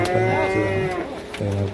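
Cattle moo at the Vaniyamkulam cattle market, a loud, close drawn-out low call followed by another moo, with other market animals faintly behind.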